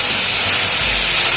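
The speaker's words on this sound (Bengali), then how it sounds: "এবারে এর মধ্যে দিয়ে আদা আর টমেটো একসঙ্গে পেস্ট করে দিয়ে দিলাম।" Ginger and tomato paste hits hot oil with a loud, dense, continuous hiss and sizzle that holds steady throughout, with no voices.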